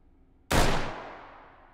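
A single loud WA2000 sniper rifle shot in the VR game Hot Dogs, Horseshoes & Hand Grenades, a sharp crack out of near silence with a long fading reverberant tail.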